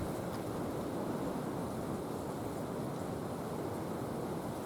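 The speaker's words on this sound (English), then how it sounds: "The wind is absolutely insane. Like, it's blowing 45 mile an hour." Strong wind of about 45 mph gusting across open water while bass fishing in Kansas, a steady, loud broadband roar buffeting the microphone for the whole stretch with no letup.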